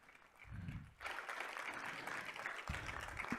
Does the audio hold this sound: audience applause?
yes